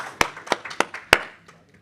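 A few people in the audience of a research day plenary clap in a sparse, uneven burst: four or five sharp, close claps with softer ones between, fading out quickly.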